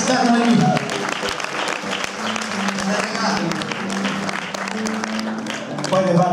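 An audience at a live concert applauds the band, with sustained clapping and crowd noise that swells near the start and end, while voices speak over it.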